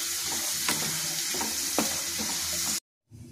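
Potatoes frying in a hot pan, a steady close sizzle broken by a few sharp scrapes of stirring, then the sound cuts out abruptly near the end with only a faint return.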